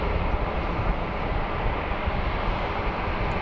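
Atlas Air Boeing 747 beginning a heavy takeoff roll at Sydney Airport, a dense, steady, loud jet engine roar with no break, heard from nearby and alone.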